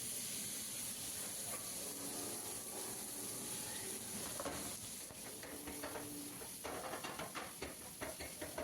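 Steak and vegetables sizzle faintly in smoking-hot oil in a pan, a steady soft hiss with occasional stirring scrapes and crackles.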